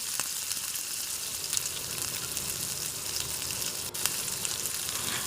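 Curry leaves drop into hot oil already holding mustard and sesame seeds for a Gujarati handvo tempering, producing an even, dense sizzle with occasional sharp spits and one brief crackling burst, close and free of speech.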